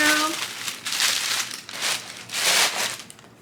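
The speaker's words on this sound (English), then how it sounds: "I'm gonna unwrap them for you." Plastic or paper wrapping comes off a new pair of Dr. Martens shoes in several loud crinkling bursts, close up, with a brief voice at the start.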